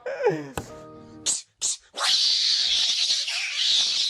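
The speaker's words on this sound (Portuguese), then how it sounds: "Um gato na oficina, meu povo." A cat in a workshop gives a short meow-like cry, followed by a buzzing tone and a rising burst of rough, scuffling noise, with no clear talk.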